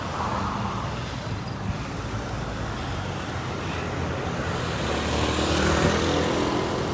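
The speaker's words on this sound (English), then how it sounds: "You have to get out there into traffic and move with it." Morning street traffic in Phnom Penh, a dense, steady wash of car and motorbike engines nearby that swells a little toward the end, with no voices standing out.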